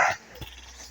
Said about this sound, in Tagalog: Yung mga alaga kong aso.